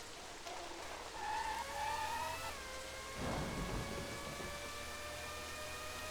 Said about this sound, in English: Man, I hear the thunder.